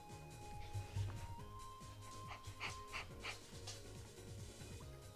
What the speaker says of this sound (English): I got the dog in here with me again.